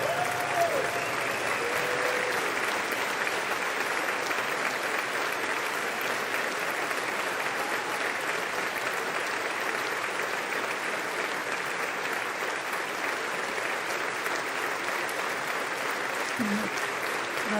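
Steady, loud applause fills a large chamber of the US Congress, continuous and dense from start to finish without a break, with faint crowd murmur underneath.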